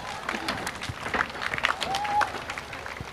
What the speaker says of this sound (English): A big round of applause for our 10th graders